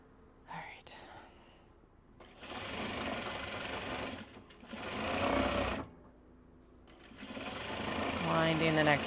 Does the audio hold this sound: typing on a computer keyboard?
no